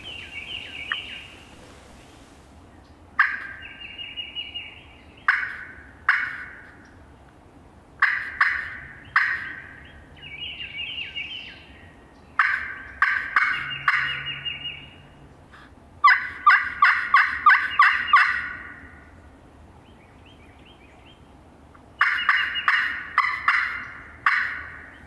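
Wild turkeys in Mississippi woods answering a pot call, with sharp rasping yelps and rolling gobbles in repeated bursts, some clustered in rapid runs, moderately near and loud against a quiet outdoor background, without voices.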